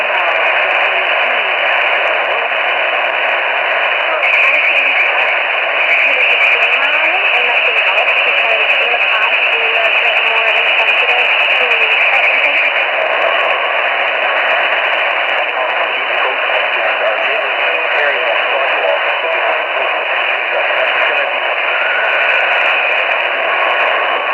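A radio receiver tuned to a distant AM station at 890 near Duluth, Minnesota, hisses with steady static and faint, fading program sound underneath, continuous and even throughout.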